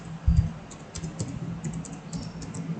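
Fingers tap a computer keyboard in a quiet room, a few light irregular keystrokes scattered over a low steady background hum, with no talking.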